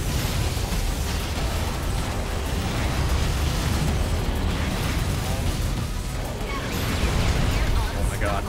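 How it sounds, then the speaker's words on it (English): Explosions and bursts in the video game Assault Android Cactus, a dense, loud, continuous rumble of blasts and game effects filling the whole stretch without pause. "Oh man, a hell of a fucking explosion."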